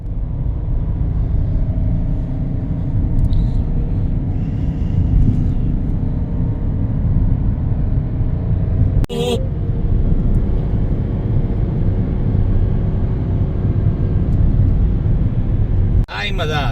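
A vehicle drives along a mountain road on a road trip through China, giving a constant low engine and road rumble from inside, with a couple of sharp knocks breaking through.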